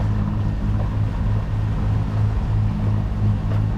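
A sailboat's engine runs steadily at sea, a low, loud, continuous drone with a faint rhythmic throb, mixed with wind and water and no talking.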